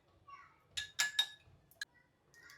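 Ingredients being mixed in a glass for a simple nighttime drink, giving a few quick clinks of a spoon against glass, close and fairly quiet, with short gaps of near silence between them.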